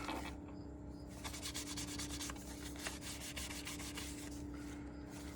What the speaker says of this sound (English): and rub it, get the corners on each side